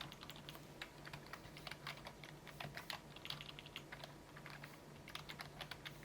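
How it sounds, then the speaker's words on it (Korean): Rapid computer keyboard key presses on a PC in BIOS setup with an Intel 14700K on a Gigabyte B760M AORUS Elite X AX board, a steady run of close, crisp clicks alone over a low electrical hum. "이제 키보드 F10번키를 눌러주시고 Yes를 눌러 윈도우로 진입해주세요"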